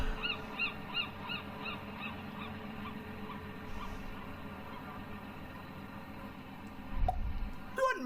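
A bird in The Journey Down adventure game squawks in a repeated series of nasal honking calls, fairly faint over a quiet ambient bed, followed later by a low thump and a rising screech.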